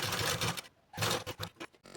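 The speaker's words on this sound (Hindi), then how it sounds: "इसको हमें इस तरह से इसके ऊपर पे रखना है और तिरछे पे हमें सिलाई लगा लेनी है" A sewing machine stitching strips of blouse fabric on the bias, running in fast whirring bursts with a short pause between them, close and fairly quiet, with no talking.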